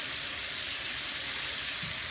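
Mushrooms sauté in a pan in a steady, dense hiss of hot fat, even and unbroken from start to finish, close and fairly loud with nobody speaking.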